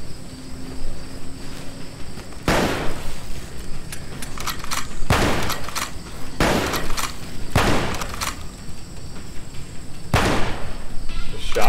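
Shotgun blasts in a VR zombie shooter set around Chornobayivka, with Russian zombies fought by Ukrainian soldiers: about six loud, sharp booms spaced a second or two apart over a steady backdrop of game noise.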